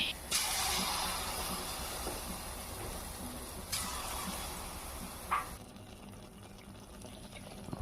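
Taal (palm) pitha batter frying in hot oil gives a steady, close sizzling hiss with a few brief sharper crackles, then eases slightly toward the end.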